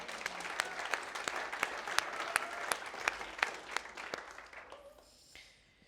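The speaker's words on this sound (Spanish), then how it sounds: "Eso merece un aplauso, ¿verdad?" Audience applause fills a church sanctuary, a dense wash of many hands clapping steadily for several seconds at moderate distance before tapering off, with no talking over it.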